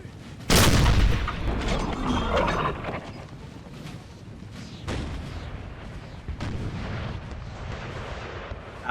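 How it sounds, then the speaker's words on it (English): Artillery fire in the strategy game Napoleon: Total War during a 4v4 battle at Talavera, a loud cannon boom followed by rolling booms and battle noise over roughly nine seconds. "The artillery is just going to start pummeling this UK line."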